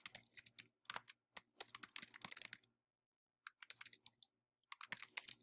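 Someone types on a computer keyboard, rapid bursts of close, crisp key clicks separated by short pauses, quiet and alone.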